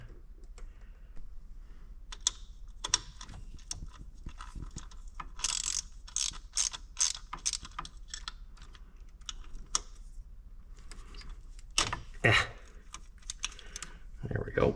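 A 10mm socket ratchet wrench turns a bolt in quick bursts of rapid clicking, close and sharp, with pauses, handling clatter and brief talk.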